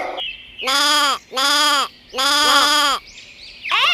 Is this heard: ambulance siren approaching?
no